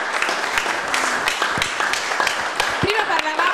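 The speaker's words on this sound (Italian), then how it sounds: "facciamo un applauso" An audience at an international guitar festival applauds, a dense patter of clapping that carries on while a host keeps speaking over it.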